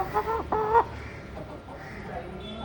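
A fancy ornamental chicken with muffs and feathered feet gives a couple of short, nasal clucks close by early on, then only a low background hum remains.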